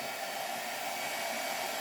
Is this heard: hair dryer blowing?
yes